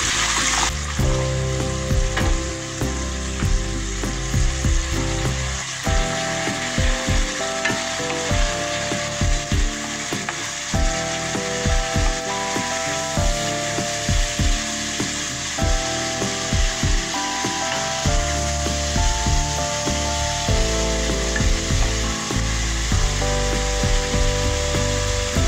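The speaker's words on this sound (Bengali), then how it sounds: "1 চামচ লঙ্কার গুঁড়ো, 1 চামচ হলুদের গুঁড়ো, 1 চামচ জিরের গুঁড়ো। অল্প জল দিয়ে কষিয়ে নেব।" Chili, turmeric and cumin powder frying with a little water in a pan for prawn curry masala, a steady close sizzle with scraping and stirring scrapes recurring throughout, no voices.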